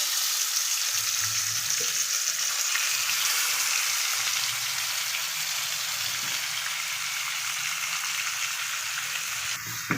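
Chicken marinated in salt, turmeric, chili and lemon hits a hot pan for a chicken pulusu, giving a steady loud sizzle and hiss that runs unbroken throughout, with faint stirring underneath.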